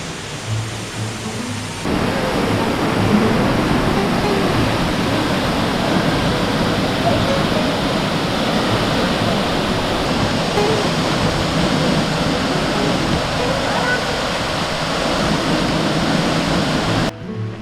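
Jok Kradin waterfall in Kanchanaburi pours in a loud, continuous broadband rush, with a brief quieter stretch before the full roar sets in and holds steady throughout.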